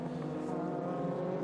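GT race cars, including Lamborghinis and Porsche 911s, at Okayama in a Super GT round, their engines a steady distant roar with layered tonal harmonics, fairly faint and continuous.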